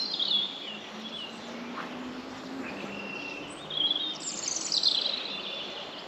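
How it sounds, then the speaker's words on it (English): Several birds chirp and whistle at a distance over a steady hiss of outdoor ambience, with a brighter burst of song toward the end. "there's a lot of bird noise going on."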